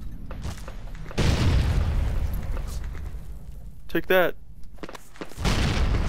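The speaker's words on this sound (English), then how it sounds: "Why are these explosions lagging me so badly?" Explosions go off in Fallout New Vegas, several deep booms with gunfire-like bursts mixed in, moderately loud, under a player who talks excitedly over them.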